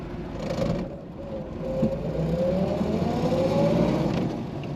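A 1932 Buick 56S four-passenger Special Coupe with a three-speed floor manual runs steadily, its smooth, quiet engine hum continuous and close, with a gentle rise in pitch partway through and no talking.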